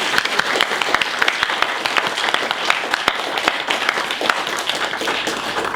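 Audience applause at a short story competition event for a writing magazine: dense, steady clapping from a crowd, loud and continuous throughout with sharp individual claps standing out.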